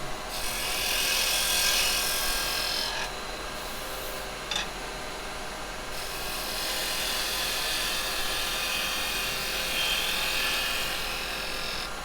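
A lathe spins end-grain pine while carbide chisels cut it, giving a continuous close hissing, rasping scrape with small shifts in intensity and a brief pause in the cut.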